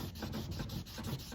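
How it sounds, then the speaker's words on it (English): A brass-headed hickory putter about a century old is wet-sanded by hand with a small foam 2000-grit pad, giving a steady, close, continuous rubbing scrape with no pauses and no voices. "I use this little foam sanding sandpaper"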